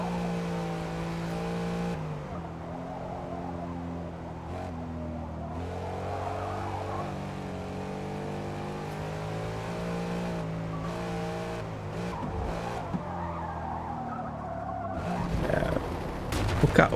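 A Ford Mustang drives in Forza Motorsport, its engine droning and shifting pitch through repeated revs and gear changes, with brief tire squeals and a rising surge at the end, while someone talks over it.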